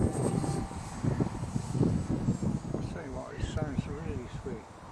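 Whining small electric motors of a twin-engine model airplane buzz steadily under gusty wind noise, with someone talking over them in the second half.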